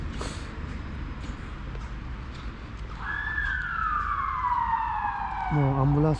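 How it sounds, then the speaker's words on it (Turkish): A single siren tone sweeps up and slowly falls over steady road noise, with a faint voice speaking nearby. "Bu ambulans mı?"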